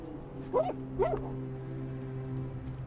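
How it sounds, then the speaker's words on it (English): Injured puppy in a video game whimpering in two short, high, whining yelps close up, over a steady droning game background hum with faint ticks. "Oh, there's another injured puppy we could heal."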